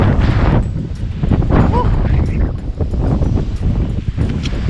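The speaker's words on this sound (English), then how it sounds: "Really windy as well." Strong wind at Cabo de la Vela, Colombia, buffets the microphone in loud, gusting rumbles, with a voice briefly audible underneath.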